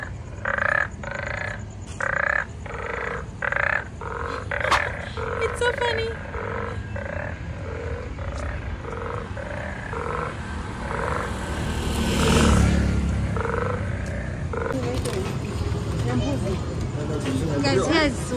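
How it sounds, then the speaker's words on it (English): Frogs croak in steady rhythmic pulses through the night air in Dar es Salaam, Tanzania, under constant talking and distant traffic rumble. "do you hear the sound? Those are frogs. Sound of the frogs."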